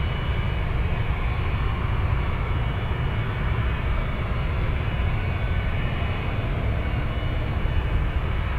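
Jet engines on an aircraft at Anchorage airport spool up into a dense, steady low roar that holds constant and fairly loud throughout, with no voices over it.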